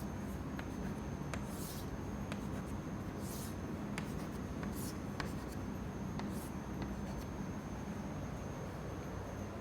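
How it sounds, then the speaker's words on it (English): A pen drawing streamline arrows at 45 degree angles on a board during a fluid mechanics lecture, heard as faint scratchy strokes in short, evenly spaced bursts over a steady background hiss. "For greater than 5 seconds, I would have to draw these lines at 45 degree angles."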